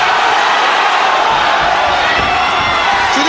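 A boxing arena crowd on its feet roars and cheers in a dense, steady wash of noise, loud and unbroken for a few seconds.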